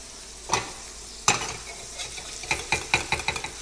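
Croaker fillet frying in butter in a pan, a soft steady sizzle broken by a few sharp clicks and scrapes as the fish is stirred and moved around, fairly quiet and close.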